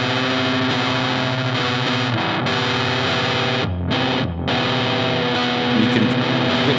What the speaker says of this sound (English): You can get very much big muff sounding style fuzz sounds out of this